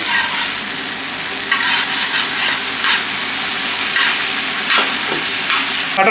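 Tomato puree hitting a sizzling tawa chicken gravy of yogurt and turmeric, a loud steady frying sizzle with stirring scrapes throughout, close and continuous with no voices.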